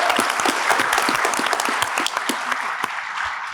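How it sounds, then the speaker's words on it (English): An audience at a summit keynote panel breaks into applause, a close, dense patter of clapping that runs throughout and thins slightly toward the end. "I think this deserves a little applause."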